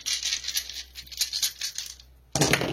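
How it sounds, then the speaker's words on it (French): Dice rolled in a quick scatter of small hard clicks and rattles tumbling across a surface, then a brief louder clatter at the end, close by and with no talking. "Alors, le petit lancer de dés."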